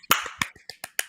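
Hand claps at a slow pace, about five sharp, separate hits spaced roughly a quarter second apart, close and fairly crisp with nothing else in between.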